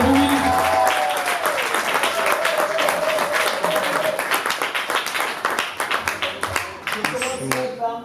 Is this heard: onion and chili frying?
no